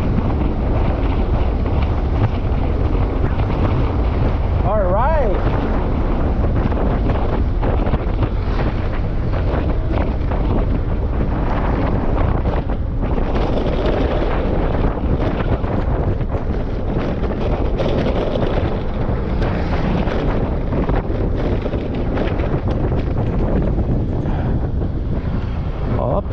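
Strong outdoor wind buffets the microphone without pause during wall cladding work, a dense roaring rush that swells and eases slightly over the whole stretch.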